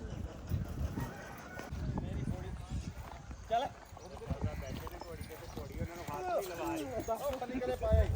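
A horse's hooves clip-clop unevenly on a farm as it is led back, heard under nearby people talking, with faint chicken or rooster calls in the background.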